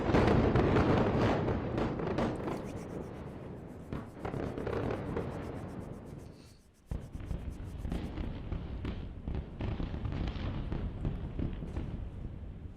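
Explosion in Beirut from an Israeli airstrike near the airport: a loud rumbling blast fading out, then a sharp thud followed by distant crackling and scattered pops.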